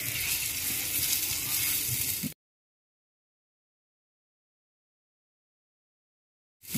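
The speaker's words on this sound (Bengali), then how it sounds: "দু সাইডে আমরা ভালোভাবে ভেজে নিচ্ছি" Potato pakoras frying in hot oil, a dense loud bubbling sizzle for about two seconds that cuts to silence, then resumes briefly at the end.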